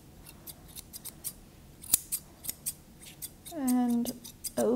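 Grooming scissors trim a poodle-type dog's head, giving a run of light, close snips spaced irregularly, ending in a few quick clustered cuts, with faint soft talk underneath.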